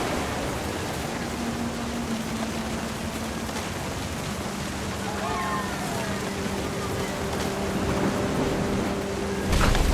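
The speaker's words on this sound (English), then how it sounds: "Thunder sounded much too close and full of angry power." A steady wash of rain hisses throughout a stormy scene in the video game What Remains of Edith Finch, with a faint low rumble and soft tonal sounds underneath. It swells slightly louder near the end.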